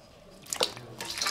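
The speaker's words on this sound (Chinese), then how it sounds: "捞出来再洗一下。" Pork ribs being rinsed in water in a home kitchen before braising for noodles, giving brief close splashing and dripping sounds with a couple of wet bursts, fairly quiet.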